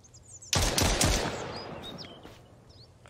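A short burst of gunfire at a bandit in the survival game Mist Survival: a few sharp, loud shots in quick succession that echo and fade, with faint birdsong around them.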